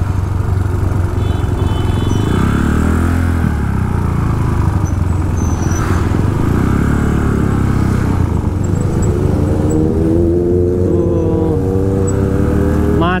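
Afternoon traffic jam on Jalan Raya Padang Luwe in Bali, with motorcycle engines idling and revving close by among cars, a constant low engine rumble with rising and falling revs throughout.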